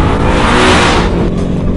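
A 2012 Ford Mustang Boss 302 with a six-speed manual gearbox accelerates hard, its engine roaring loud and close in a dense, continuous rev that eases off slightly toward the end.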